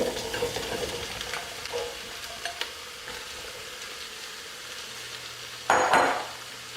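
Sliced vegetables for a vegan Tuscan soup go into a pot, with a low sizzle and soft scraping of stirring throughout, then a louder clattering splash near the end, close and without talk.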